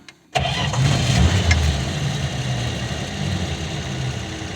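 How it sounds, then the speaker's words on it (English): A warm 1973 Plymouth Valiant engine cranks and catches after a brief silence, then settles into a steady, loud rumbling idle close by. "The engine is still warm. Start it up here."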